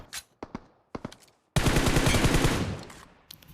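DP machine gun fire in the mobile battle game BGMI: several separate sharp shots, then a loud continuous burst of rapid fire lasting over a second before fading, with a few faint clicks after.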